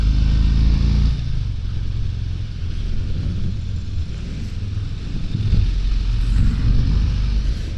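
A Harley-Davidson Fat Boy 114 motorcycle rolls up to a stop, its deep exhaust rumble dropping off after the first second, then settling into a low, uneven idle throb that swells slightly toward the end.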